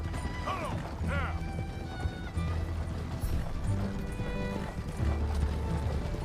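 Horse hooves clip-clop in the Red Dead Redemption 2 video game, a steady rhythm of close, clattering steps mixed with a couple of brief whinnies and game noise, with speech at times.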